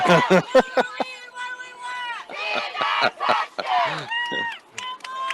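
A voice shouts a cheer in the stands of a high school football game, loud and near, with crowd noise around her.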